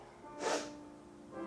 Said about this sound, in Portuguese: desculpem aí a pausa pro espirro